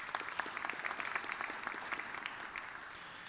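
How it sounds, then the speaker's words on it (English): A crowd claps for Mrs. Smith at a high school awards evening, a steady and moderately loud round of applause with no one talking. "So I want a nice round of applause for Mrs. Smith"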